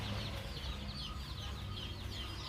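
Kaveri gavran desi chickens on a poultry farm cluck softly and continuously, a quiet, close flock murmur with no other sounds.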